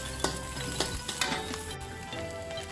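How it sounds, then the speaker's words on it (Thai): Garlic frying in oil in a pan, a steady close sizzle broken by a few sharp stirring clinks and scrapes, with no talk over it. "หลังจากที่เราเจียวกระเทียมได้เลยจ้ะ"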